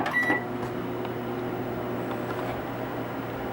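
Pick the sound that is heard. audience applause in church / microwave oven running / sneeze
microwave oven running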